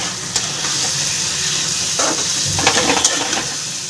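Aloo bhuna with chopped coriander leaves being stirred in a pan over steady frying sizzle, with a few scraping strokes toward the end, close and fairly loud, no talking.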